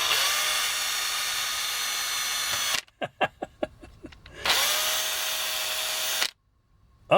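A power drill whirs steadily for a few seconds, cuts out into a string of sharp clicks and knocks as it breaks, then whines again before stopping abruptly.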